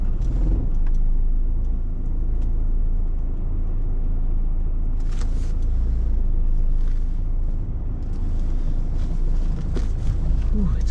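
A car drives on a cold winter morning commute at about 22°F in Logan, with a steady low road and engine rumble and some wind noise throughout, and no talking.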